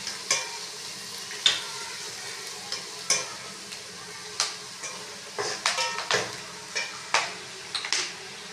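Garlic, ginger and dried coriander paste frying with browned onions in a pan, a soft sizzle punctuated by repeated scraping stirs at irregular intervals, close and fairly quiet.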